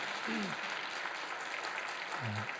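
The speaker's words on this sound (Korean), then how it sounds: "하나님께 감사의 박수 올려드리겠습니다." A church congregation gives a round of applause during a Sunday service, a faint, steady wash of clapping with a couple of brief low tones sounding beneath it.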